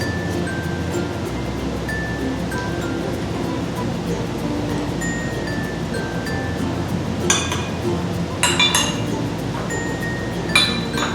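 Milk and vanilla being mixed into dough in a bowl outdoors, with sporadic clinks of a utensil against the bowl over a steady wash of outdoor background noise.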